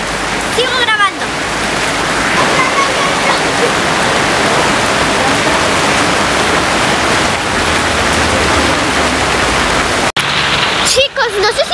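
Heavy rain pours down in a dense, constant hiss, loud and close, with a brief rustle and pause near the end.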